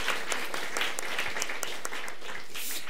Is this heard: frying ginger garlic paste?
no